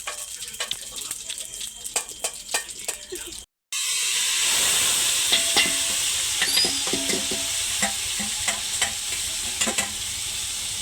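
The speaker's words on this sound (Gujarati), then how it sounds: "ડુંગળીનો વઘાર નાખી દીધો છે" Clicks and scrapes of stirring, then a brief pause before hot oil tempered with cumin bursts into a loud, steady sizzle as onions fry, with occasional utensil taps.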